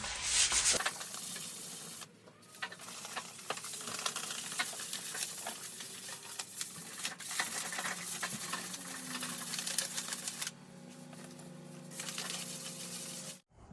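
Hand sanding a primed Honda Accord CB7 body panel with coarse paper before a vinyl wrap, steady close scratchy rubbing strokes with a couple of brief breaks, no talking.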